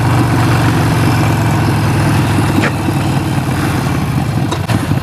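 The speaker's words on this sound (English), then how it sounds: "I'm on the 48, going down the road." A Harley-Davidson 48 Sportster motorcycle rides down the road, its engine a loud, steady low rumble throughout with a slight dip near the end.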